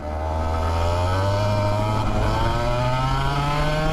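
A racing go-kart engine accelerating hard down a track straightaway, its loud, close buzzing whine climbing steadily in pitch throughout, with no talking.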